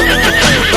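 A horse neighs in a short, loud, close whinny with a wavering pitch that fills the brief moment.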